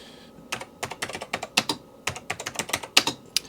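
Typing on a NeXTstation computer keyboard, a close run of quick irregular key clicks and clacks, steady and alone without talk.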